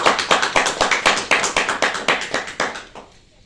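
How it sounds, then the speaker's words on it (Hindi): A small audience at a meeting claps loudly for the Ekam Ashram Seva Samiti, about two dozen crisp claps in a quick, steady rhythm, close and clear, ending abruptly near the end. "कम से कम एकम आश्रम सेवा समिति के लिए जोरदार तालियां तो बजा ही सकते हैं।"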